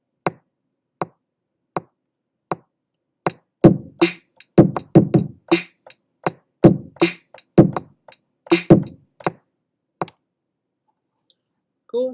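A programmed drum beat opens with evenly spaced, sparse clicks, then shifts into a busier, syncopated pattern of punchy hits before stopping.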